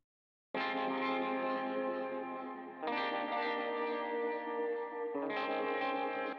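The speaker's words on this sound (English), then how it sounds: "I used a tremolo pedal." Electric guitar chords pulsing through a tremolo pedal, the sustained tones swelling and dipping rhythmically, restruck twice more, loud with no voices.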